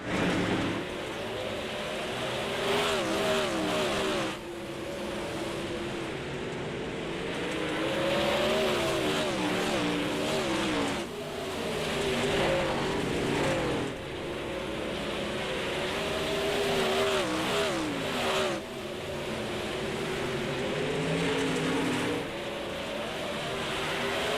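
Sprint cars racing on the dirt track at Lincoln Speedway, loud roaring engines revving and surging in repeated waves as cars pass close by, continuous throughout.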